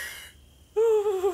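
A voice imitates a sleeping person's snoring, one rough wheezy inhale followed by a louder, sustained tonal snore, close and alone.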